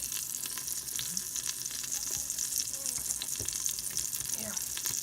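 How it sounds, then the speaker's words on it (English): Butter melts in a pan for mushroom soup, giving a soft, steady sizzle with faint crackles and light clinks throughout. "So here we are melting some butter"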